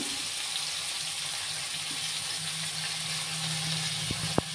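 Chopped onion frying in oil with cumin makes a constant close sizzle and crackle, a dense hiss that stays level, with a couple of faint knocks near the end.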